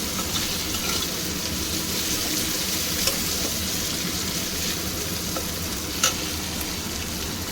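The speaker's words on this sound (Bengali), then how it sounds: "টমেটোটা নরম হওয়া পর্যন্ত আমি একটু নেড়ে চেড়ে নাড়তে থাকবো আর কি।" Chopped tomato with a little salt frying in a pan for a young goat curry, stirred as it softens: continuous close sizzling with faint scrapes and a couple of sharp utensil taps, no voices.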